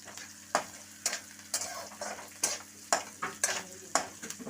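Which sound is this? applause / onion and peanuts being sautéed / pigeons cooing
onion and peanuts being sautéed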